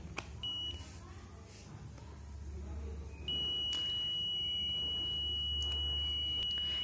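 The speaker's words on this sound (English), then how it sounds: "It will give a buzzer sound" A steady high-pitched electronic beep from a digital multimeter on continuity test starts partway through and holds continuously, loud and close, over a low background hum.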